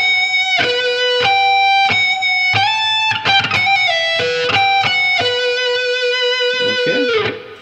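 Slow, sustained electric guitar lead phrase from a solo, played alone with distinct bent and vibrato notes high on the neck, a series of ringing sustained tones, loud and clear with effects.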